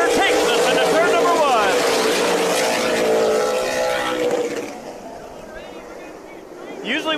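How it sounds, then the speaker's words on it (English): Race cars roaring together as the field takes the green flag at Tucson Speedway, a loud dense engine wash that fades as the pack heads into the first turn, with an announcer talking over it. "It is time to go green, and we are racing as Tyler Tanner takes us into turn number"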